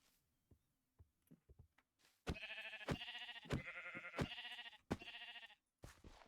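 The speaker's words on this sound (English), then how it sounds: "So the sheep is like all the way up here, isn't it?" Several sheep bleats from Minecraft, loud and close, coming in repeated harmonic bursts with short gaps and a few quiet clicks before them.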